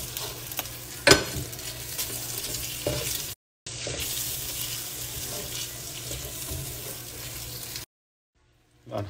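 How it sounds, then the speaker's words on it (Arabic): Butter added to hot bacon fat in a pan, a steady sizzle with stirring scrapes and a sharp clatter early on, briefly cutting out twice. "هضيف الآن زبدة"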